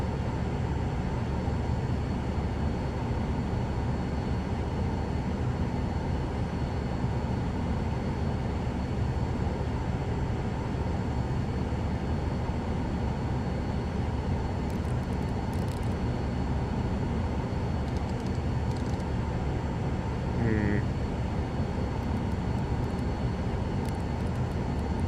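A helicopter engine runs steadily just after start-up, a loud, constant turbine roar and hum heard from inside the aircraft for the whole stretch, with no pause and no talk.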